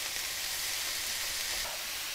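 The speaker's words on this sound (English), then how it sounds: "I want these vegetables to naturally sear and caramelize and all that kind of good stuff" Onions and vegetables sear in a hot pan with a steady, even sizzle that holds for about two seconds. The sound is close and moderately quiet, with no talking.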